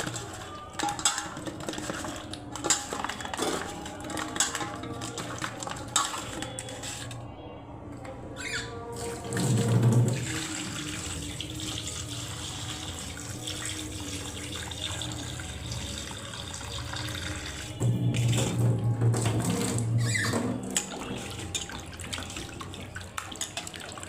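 Tap water runs steadily into a sink as fish are rinsed with turmeric and salt, with splashing and handling noises that swell at moments.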